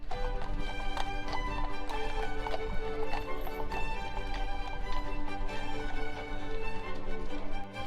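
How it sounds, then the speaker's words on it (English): Horse carriages roll past on a street in Salzburg's old town, hooves clip-clopping in a steady, continuous rhythm amid busy city ambience and background music. "where you will likely have several horse carriages pass you"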